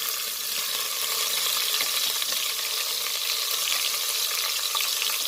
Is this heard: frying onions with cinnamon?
yes